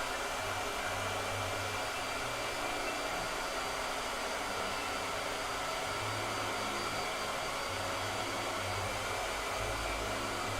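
A blow dryer running with a steady loud whirring hum, a continuous motor drone with slight pulsing in the low end, alone and unbroken throughout.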